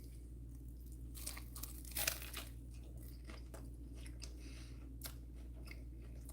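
Someone bites into and chews a turkey and ham sandwich with horseradish sauce, close-up crunching and soft mouth sounds repeating over a low steady hum.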